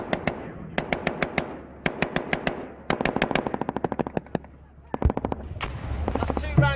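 Incoming rounds and gunfire during a Taliban attack in Afghanistan: sharp bursts of automatic fire in rapid rattling strings, some close and loud, with a heavier thump near the end and voices faintly underneath.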